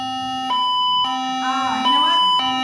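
Tsunami warning alert tone from a radio alert program, a loud steady electronic alarm with abrupt on-off pulses and a wavering warble in the middle, close and continuous.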